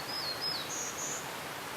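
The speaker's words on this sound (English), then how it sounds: "This is the Maxwell House bird." Townsend's Warbler song, a few thin, high, buzzy whistled notes spread over about a second, faint and somewhat distant against a steady background hiss.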